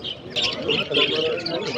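Many small caged birds at an Izmir bird market chirp and tweet busily close by, a lively overlapping chorus with faint crowd murmur behind.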